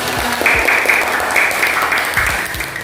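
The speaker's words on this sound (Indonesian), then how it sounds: "Tepuk tangan." A class of students claps together in a classroom, giving a loud, dense burst of applause with some rhythmic, patterned clapping carrying through the short stretch.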